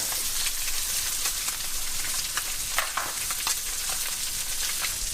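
Miso-coated tilapia fillet searing in a hot pan, a dense, even crackling sizzle running throughout with occasional sharper pops, close and unbroken by any voice.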